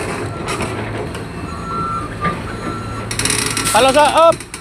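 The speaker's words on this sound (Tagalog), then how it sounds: "Palusotin mo yung truck." Repeated high reversing beeps from a truck backing up on a congested road, over a low idling engine and traffic noise, with brief hiss and rattle near the end.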